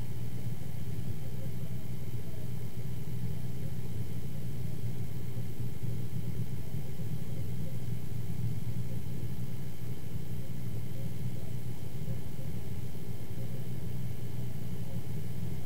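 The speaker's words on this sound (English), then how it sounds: "This is the way I've been buffing my queues now for about 15 years." A buffing machine polishing pool cues gives off a steady, low motor drone that holds evenly from start to finish, with no break or change in pitch.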